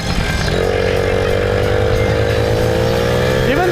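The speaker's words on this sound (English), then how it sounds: "Also sounds like a two-stroke engine." Small Honda Motocompo scooter engine with a buzzy two-stroke character, running steadily and close by with a slight rise in pitch near the end; a voice talks over it.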